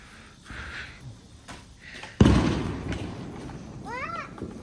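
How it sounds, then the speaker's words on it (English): A loud firework blast bursts out suddenly and booms, its echo rolling away for a couple of seconds, with softer pops and a whistling rocket trail afterward and brief vocal sounds nearby. "That was a bomb. That was not fireworks. That sounded like a bomb."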